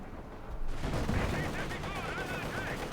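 Gunfire and artillery rumble through a Company of Heroes 2 urban battle, a World War II strategy video game. The dense, continuous roar of combat stays loud throughout, with faint voice-like sounds mixed in.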